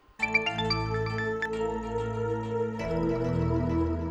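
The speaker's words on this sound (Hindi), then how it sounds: "अरे भैया का फोन।" A mobile phone ringtone plays alone and fairly loud, a bright melodic chiming tune of sustained tonal notes that shifts pitch partway through, with no talking.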